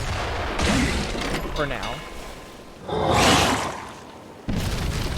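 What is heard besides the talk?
salvo of gunfire and explosions in a video game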